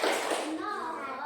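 Children in a classroom clap out the 'tepuk 100' clap pattern, a short dense burst of many hands clapping together with young voices mixed in.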